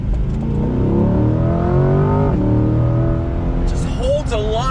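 A 2020 Chevrolet C8 Corvette Z51 pulls hard on throttle, its engine note climbing loud and close in a rising sweep, briefly dipping at a gearchange, with a voice breaking in near the end.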